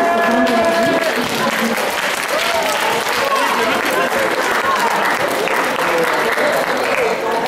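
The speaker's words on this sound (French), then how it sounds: "Vous avez le droit d'applaudir aussi." A crowd applauds cosplay contest participants at a geek convention results ceremony, loud continuous clapping filling the whole stretch with voices talking and calling out over it.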